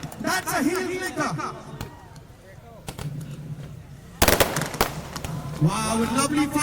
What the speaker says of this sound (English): Wow, with lovely firecrackers.